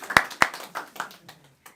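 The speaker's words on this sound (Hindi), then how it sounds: "जोरदार तालियां हो जाए पवन भाई के लिए एक बार" A few sharp hand claps at a poetry gathering: two loud, crisp claps close together, then several softer, scattered ones fading out over a couple of seconds.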